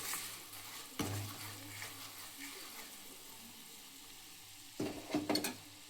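Powdered jaggery stirred into a pan for tomato rasam, a soft low sizzle with two bursts of spoon scraping against the pan, close and quiet.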